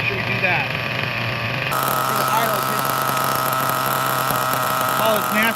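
A new small nitro RC engine runs loudly and steadily during break-in for several seconds, a high buzzing whine with a slight shift in pitch partway through.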